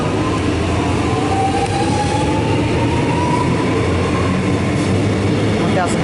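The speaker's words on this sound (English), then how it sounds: "looks as though the train's now departing" A train departing a station gives off a loud continuous rumble and rail noise, with rising wheel and motor tones and a faint squeal near the end.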